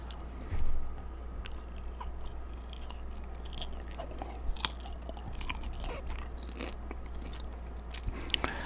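Close-up crunchy popcorn chewing with irregular bites and soft mouth noises, fairly quiet against a low background hum, no talking.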